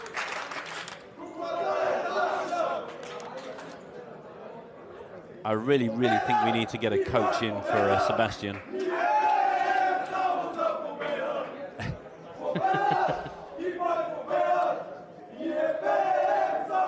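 Crowd at the PokerStars Championship Barcelona 2017 main event final table breaking into a loud rhythmic Bulgarian chant, rising and falling in bursts with commentators speaking over it.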